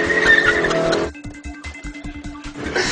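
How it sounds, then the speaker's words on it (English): A Toyota fitted with a 2JZ engine and all-wheel drive does burnouts, its tyres squealing loudly at first, then giving way to a rapid string of short, pulsing engine bursts and chirps, close by with no talk. "It does hectic burnouts!"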